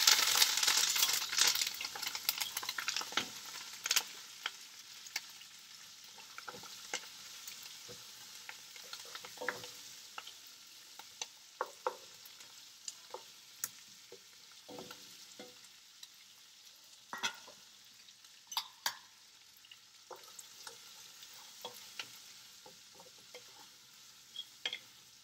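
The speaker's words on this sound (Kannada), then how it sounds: "ಈ ಟೈಮಲ್ಲಿ ಇವಾಗ ಈರುಳ್ಳಿ ಮತ್ತು ಕರ್ಬೇವಿನ ಸೊಪ್ಪು ಹಾಕೋಣ" Onion and curry leaves crackle and fry in a tempering of hot oil for a puffed-rice dish, a steady close sizzle broken by frequent sharp pops and stirring clicks, with no talk.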